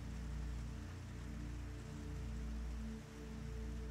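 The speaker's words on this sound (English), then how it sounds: "And you walk out into the rain." Steady rain falls on a Lisbon street at night, a soft continuous hiss over a low humming drone, with no voices.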